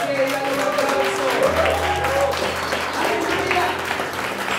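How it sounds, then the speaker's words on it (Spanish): A church congregation applauds together during a worship service, a steady, dense wash of clapping that fills the whole stretch, with tonal music and voices running beneath it. "Ponte de pie y dale un aplauso."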